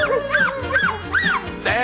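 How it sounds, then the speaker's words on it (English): A cartoon-style dog bark voiced in a children's song, several short rising yelps in a rhythmic pattern, close and clear with music underneath. "I heard my dog bark."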